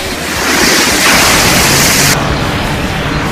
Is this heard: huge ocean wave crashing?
yes